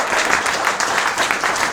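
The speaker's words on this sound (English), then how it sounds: "So please can you give a round of applause to them." Applause from wedding speech guests honouring family who travelled from Australia, a dense, steady wash of many hands clapping close by for a couple of seconds, with no voices over it.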